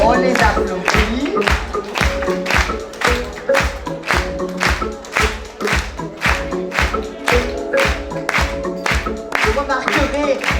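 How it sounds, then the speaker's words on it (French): Audience clapping for models walking a charity fashion show against cancer in an indoor hall, a steady dense patter of hands that stays loud and even throughout, with music or voices faintly beneath. "On les applaudit."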